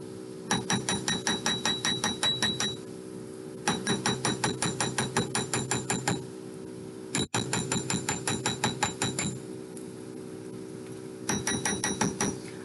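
Mallet blows flattening a piece of cut metal for a necklace, struck in quick rhythmic bursts of ringing, metallic taps with short pauses between runs, close and fairly loud with no talking.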